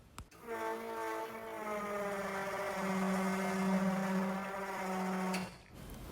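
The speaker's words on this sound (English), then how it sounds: "flip the electric fuel pump on for a test" An electric fuel pump switched on to feed the carburetors of an old coupe, a steady close buzzing whine with clear harmonic tones that starts abruptly and cuts off after about five seconds, alone.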